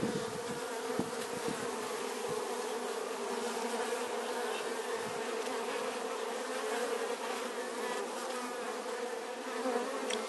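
Bees drone steadily around a Kenyan top-bar hive, a dense continuous buzz at close range with no talk over it for the whole stretch.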